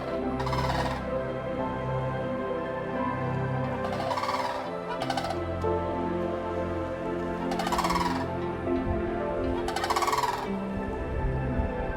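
Sandhill cranes in a Florida landscape give loud, rolling, rattling calls in about five separate bursts, heard over steady background music.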